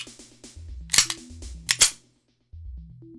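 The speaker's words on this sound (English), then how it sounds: "I'll make sure the pistol is clear." A CZ 75 Pre-B pistol, 1991 model, is cleared by hand: two sharp metallic slide racks, each a fast back-and-forward clack, stand out close and loud over quieter handling clicks, followed by a short pause of silence.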